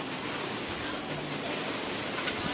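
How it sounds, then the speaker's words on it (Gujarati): Steady rain falling outdoors at the first monsoon shower, a dense, even hiss of drops close by with no pauses, heard alone without voices. "આયો વરસાદ આયો"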